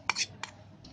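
A large bowl is picked up and set down in a home kitchen while making spinach puris, giving two or three quick, light metallic clinks close by, with a brief voice nearby.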